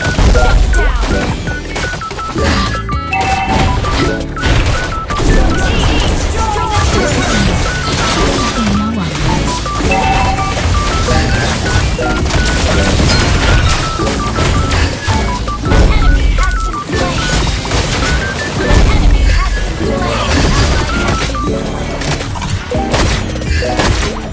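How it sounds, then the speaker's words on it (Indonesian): A turret being destroyed in Mobile Legends: loud, dense game action with repeated crashes, thuds and bursts of firing layered over music, continuous and busy throughout. "Your team destroyed the turret."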